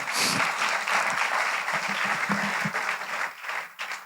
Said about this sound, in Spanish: un aplauso para Moisés